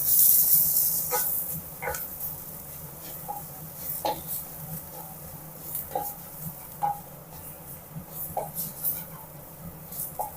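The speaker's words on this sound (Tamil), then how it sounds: "இதை நல்லா வதக்கிக்கலாம்" Onions fry in a pan with chili powder, turmeric and garam masala, giving a soft, steady sizzle broken by intermittent scraping stirs and clicks, with no talking.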